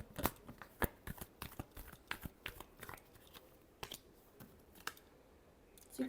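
Tarot cards being shuffled by hand, a quick run of crisp papery riffles and flicks with irregular rhythm, close and fairly quiet, no voice over them.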